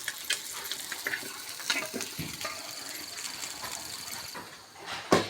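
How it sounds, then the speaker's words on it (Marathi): Fish fries crisp in a pan with a close, steady sizzle, broken by scrapes and knocks of stirring and a sharper clatter near the end. "आता ह्याच्यावर फ्राय करायचे कडक कडक कडक कडक"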